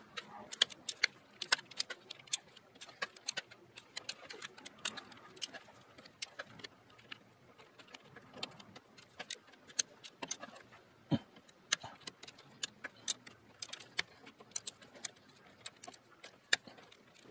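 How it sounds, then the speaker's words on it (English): A wrench or ratchet works loose the bolts on an automatic transmission pan from a Ford AOD, AXOD or AX4, making quiet, irregular metallic clicks and ticks in rapid, uneven bursts close by. "next I'm just gonna break loose these bolts"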